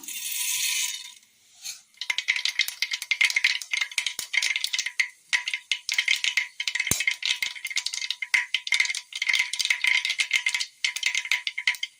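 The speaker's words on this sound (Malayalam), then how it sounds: "എണ്ണ ചൂടായി വന്നിട്ടുണ്ട്. കടുക് ഇട്ട് കൊടുക്കാം." Mustard seeds hit hot oil in a pan while cooking Kerala kadala curry; after a brief pause a dense, continuous crackling and popping builds and keeps sputtering close up.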